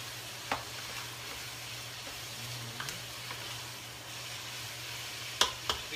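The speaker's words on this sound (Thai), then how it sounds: "เราก็ผัดไปนะจ๊ะให้ไก่เดินสุกเลยนะจ๊ะ" Chicken stir-frying in a clean pan on a stove, a steady low sizzle and hiss running throughout with a few faint scrapes and clicks, no talking.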